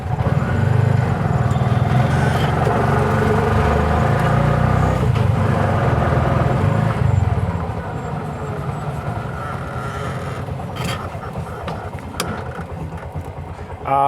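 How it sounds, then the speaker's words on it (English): An auto-rickshaw engine runs in first gear while driving, a loud, close, rattling mechanical chug that eases somewhat in the second half, with some speech mixed in. "So this is how you ride an auto rickshaw."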